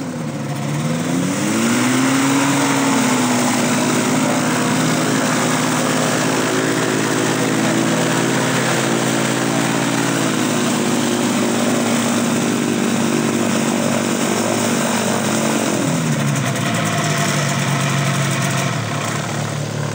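A microlight trike engine runs steadily as the aircraft arrives at an airfield petrol station, a loud close droning hum that rises and falls in pitch as the throttle changes, with no talking.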